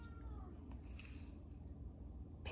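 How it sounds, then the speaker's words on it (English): A house cat meows softly in the background of a quiet room, a thin faint call rising briefly over low room noise. "my cat needs to be entertained at all times, so that is why he's meowing"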